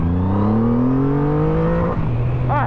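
A motorcycle engine revs hard under full acceleration, a loud rising drone climbing steadily in pitch, then a brief gear-change dip before pulling again.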